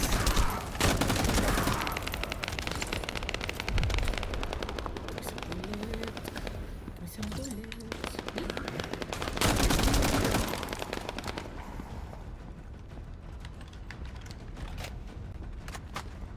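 Rapid gunfire from a scout rifle in a shooter video game, bursts of shots crackling loudly in the foreground among busy game effects, with louder volleys near the start and around the ten-second mark.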